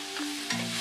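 Spices and curry powder sautéing in a pan while cooking a wheat dosa kothu, a soft steady sizzle with faint stirring scrapes and a brief louder clink at the end.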